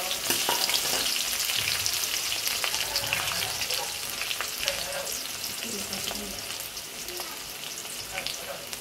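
Onion frying in hot oil with cardamom and cinnamon for chicken khichuri, a loud, dense, continuous crackling sizzle, close up and steady throughout.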